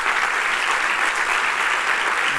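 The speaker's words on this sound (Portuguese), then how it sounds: "Uma salva de palmas a Jesus." Church congregation in Lisbon applauding, a continuous, loud wash of clapping from many hands with no break and no voice heard.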